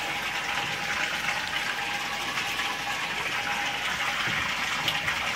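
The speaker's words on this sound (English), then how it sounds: "you can watch the water flow. This is less water, more water into the tank." Water gushes steadily from a ball valve into a 90 gallon aquarium, a continuous broadband rush and splash that stays even and close throughout with no talking.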